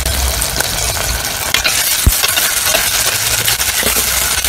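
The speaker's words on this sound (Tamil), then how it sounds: "கத்திரிக்காய் மட்டும் எண்ணெயில் வதக்கினா போதும்." Brinjal pieces frying in hot oil for a village-style karuvattu kuzhambu, following onion and tomato, give a loud, steady sizzle with a few soft stirring scrapes and no voices.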